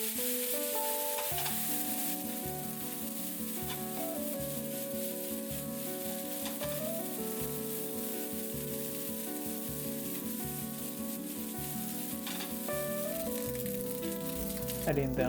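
Bacon fried rice sizzles steadily in a pan as soy sauce goes in, a continuous close hiss with light stirring scrapes, carrying on under background music.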